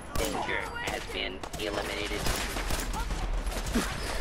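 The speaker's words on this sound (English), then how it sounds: "Who started shooting me?" Gunfire in Fallout 4 rings out as rapid shots and bursts close by, with a voice and other game sounds layered underneath throughout.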